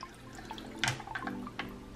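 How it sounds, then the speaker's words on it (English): French press coffee poured over ice in a glass, giving a soft trickle with a few light clinks and drips, quiet and close, with no talking. "So I'm just going to pour the coffee over my ice."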